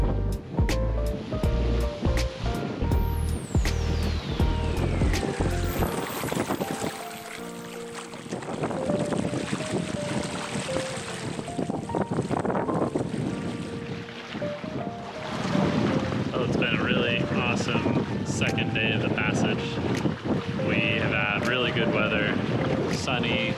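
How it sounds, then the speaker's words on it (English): Ocean waves and wind aboard a sailboat: continuous loud wind and water rush with hull and rigging noise, shifting in intensity, plus some clanks and tonal bursts over the top. "The sea state and the waves have been a little weird, but the wind has been solid"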